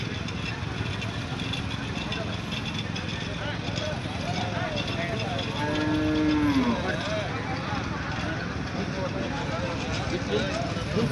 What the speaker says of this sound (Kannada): ಎಲ್ಲ ಥರ ಜಾನುವಾರುಗಳನ್ನು ಸೇರ್ತೈತಿ.